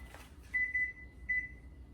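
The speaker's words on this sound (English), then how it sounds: "Okay, there's our timer." A kitchen timer beeps in two short bursts of steady high tones, the first a double beep and the second a single one, set over a quiet room hum while bread dough proofs.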